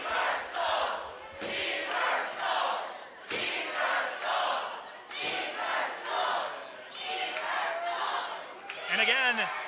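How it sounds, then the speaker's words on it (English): A Rocky Mountain Pro wrestling arena crowd chants and roars in rhythmic, pulsing waves of massed voices, loud and continuous, with a shrill whistle-like cry near the end. "Listen to this crowd."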